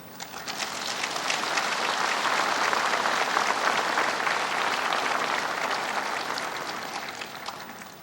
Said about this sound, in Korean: 따뜻한 위로의 박수 부탁드립니다.